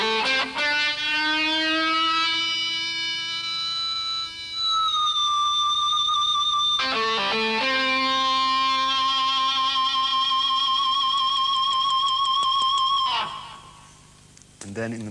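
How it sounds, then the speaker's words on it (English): An electric guitar fitted with a Fernandez Sustainer in harmonic mode holds long, singing notes that bloom into high overtones and glide between pitches, sustained and loud with a distorted, siren-like wail, unaccompanied. "In the harmonic mode, the guitar sounds like this."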